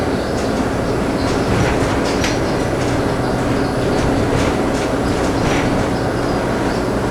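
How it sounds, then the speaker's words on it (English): A train rolls steadily past at close range, a continuous heavy rumble with faint rhythmic clatter and bursts of hiss throughout, no voices. "Is that train already gone by?"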